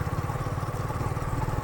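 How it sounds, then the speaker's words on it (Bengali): A motorcycle rides along a village dirt road between open paddy fields, its engine putting out a steady, rapid low putter at moderate distance throughout. "এই একটা ফ্রেন্ড বাইক চালাচ্ছে, বাইক চালাচ্ছে।"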